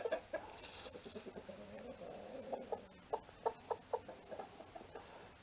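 Chickens in a new chicken run cluck softly and repeatedly, with a series of short, evenly spaced clucks close by over faint background noise.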